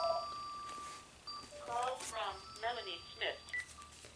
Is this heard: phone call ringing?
yes